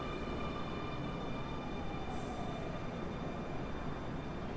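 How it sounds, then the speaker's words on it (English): A subway train rumbles steadily, its broad low roar holding constant with faint high squeals, sounding like a car rolling along underground track. "the train lurched forward again, accelerating at an alarming speed."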